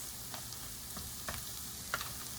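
Food sizzles softly in a pan, a quiet steady hiss marked by occasional stirring taps and scrapes, heard close by with no voices.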